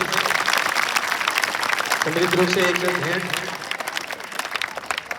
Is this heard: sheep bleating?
no